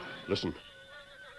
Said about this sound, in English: Me hear horses.